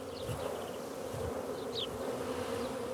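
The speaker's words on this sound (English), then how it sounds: "When bees are swarming, their honey stomachs are full, making it difficult for them to sting." A honey bee swarm being shaken from a box makes a dense, steady buzzing hum that fills the air close by, unbroken and fairly loud, with no voices.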